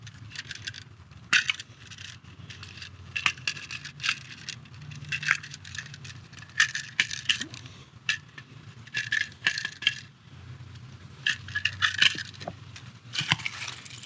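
Wire cutters snipping and stripping insulation from electrical wires while wiring an outdoor outlet, with repeated close, crisp clicks and scraping bursts spread over several seconds over a low steady hum.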